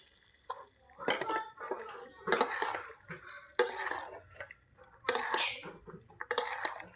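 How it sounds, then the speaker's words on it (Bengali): Mutton with potatoes is stirred and fried in a pot. A spoon scrapes and knocks against the pot in irregular bursts over a soft background sizzle. "মটন কষানো হয়ে গেছে এর মধ্যে আলু কটা দিয়ে আমি আরেকটু কষিয়ে নেব"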